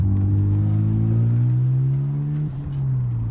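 Stock Mazda RX7 rotary engine accelerating smoothly, a steady close droning hum rising gradually in pitch, briefly dipping near the end before climbing again, with no talking.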